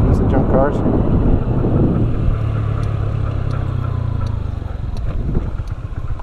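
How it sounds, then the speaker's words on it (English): Strong outdoor wind buffets a microphone, producing a loud continuous low rumble with gusty swells, while a low engine-like drone runs under it through the middle. "Wind whipping's really bad."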